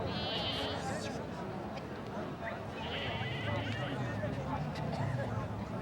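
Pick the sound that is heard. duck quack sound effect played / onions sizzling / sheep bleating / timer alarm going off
sheep bleating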